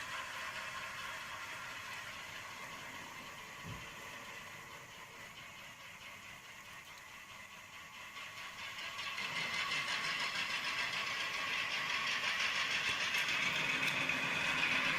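Model railroad locomotive engine throttling up to depart, a steady mechanical hum and whine that swells louder about two thirds through and holds, close and alone without talk.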